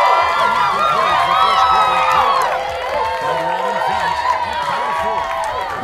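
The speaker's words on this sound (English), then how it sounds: "Round of applause for the first quarter." Crowd cheers and applause in an NBA 2K18 basketball game fill the arena steadily, mixed with shouts and a commentator talking over the noise.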